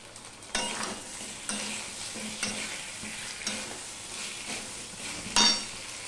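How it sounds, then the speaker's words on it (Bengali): Potato pieces sauté in hot oil for a cabbage dish, a steady sizzle broken by repeated scraping stirs of a spatula against the pan and a brief metallic clink near the end. "আমি আলুটা দিয়ে একটুখানি কষিয়ে নেব 2 মিনিটের মতো।"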